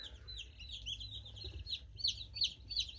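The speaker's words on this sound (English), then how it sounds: "Another cream crested leg bar, and it's a pullet." A cream crested legbar chick, a young pullet, cheeps in a steady run of high, thin peeps that grow louder and more insistent toward the end, close by over a low background rumble, with no talking.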